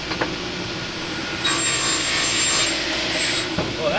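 A saw cuts cleanly through wood, a steady rasping stroke that grows louder and denser partway through, close and dominant with no talk over it.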